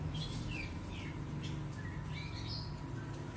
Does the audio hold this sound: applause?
no